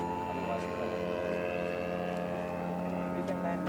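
Propeller drone of an RC Focke-Wulf FW-190 A-5 model plane with a Zenoah GT80 twin-cylinder engine as it comes in to land, a steady loud tonal buzz holding throughout with slight pitch shifts.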